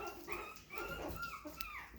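A white-and-fawn Chihuahua puppy whimpers and whines close up while being held, a continuous high, wavering cry over two seconds.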